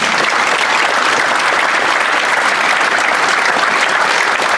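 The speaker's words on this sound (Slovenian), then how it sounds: "Zaploskajte, če je to res." An audience gives a choir dense, sustained applause, with many hands clapping loudly and evenly throughout and no voices standing out.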